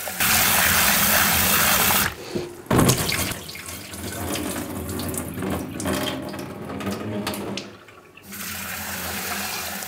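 Water from a running kitchen tap splashes over rice being rinsed, loud and continuous, broken by a brief pause and a few clattering bursts before the flow resumes.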